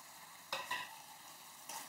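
Ground turmeric, chili powder and cumin powder are stirred together in a hot pan for a spicy egg and paneer curry, giving a couple of brief scraping strokes over a faint, steady sizzle.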